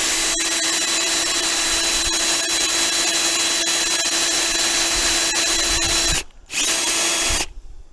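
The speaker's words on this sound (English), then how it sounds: "all I have here is a drill with a wire wheel attachment on it" A power drill with a wire brush attachment whirs loudly and steadily while cleaning a lawnmower solenoid, cutting out briefly near the end before spinning back up.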